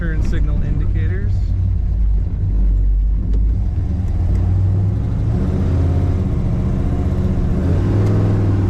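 A 1970 Chevrolet Chevelle Malibu two-door hardtop rumbles steadily while driving, its low engine drone close and continuous under a speaking voice throughout.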